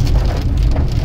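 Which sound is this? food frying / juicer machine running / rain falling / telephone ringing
rain falling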